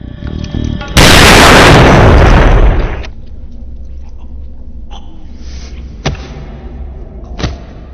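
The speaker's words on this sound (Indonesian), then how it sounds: "Donnie menodongkan pistol ke mulutnya sendiri dan menembak" A single loud pistol shot rings out in a film scene, Donnie firing into his own mouth, a sharp blast followed by a long decaying boom, then quieter thuds and ambience.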